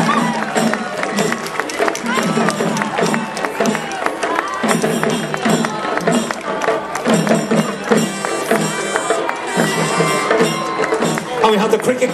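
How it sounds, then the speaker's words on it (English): A crowd at a St. Patrick's Day parade in Swords claps and cheers steadily and loudly, mixed with a marching band playing close by. "Give them a big round of applause."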